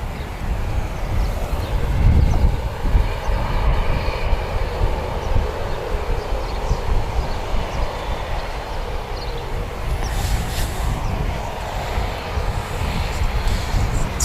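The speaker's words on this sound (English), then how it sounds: "Next up, we've got a Dash 8 going back to Nelson." A Dash 8 turboprop airliner at Wellington Airport, bound for Nelson, gives off a steady, loud low-pitched drone and propeller rumble that swells slightly early on and holds, heard without talk.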